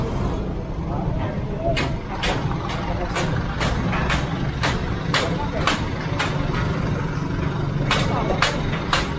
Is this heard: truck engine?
yes